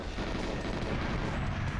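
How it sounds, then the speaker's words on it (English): Explosions in the video game GoldenEye 007 merge into a dense, continuous roar of booming and crackling blasts, loud and unbroken for about two seconds with no talking. "Those explosions."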